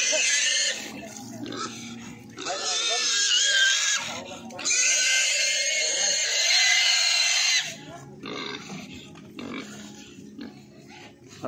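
Loud, high-pitched pig squeals in several long bursts, close by, with grunting and people talking in between.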